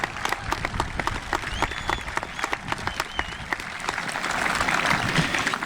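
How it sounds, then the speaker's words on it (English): A graduation crowd applauds veterans, close claps sharp at first and then swelling into denser applause with light cheering toward the end. "Let's give these heroes who are here today a round of applause."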